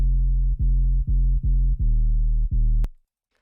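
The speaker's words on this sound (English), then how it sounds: "It is just a sine wave with some distortion and a filter." Sub bass made from a sine wave with distortion and a filter, a deep sustained tone pulsing in six or seven connected notes with slight gaps, ending in a click and then silence.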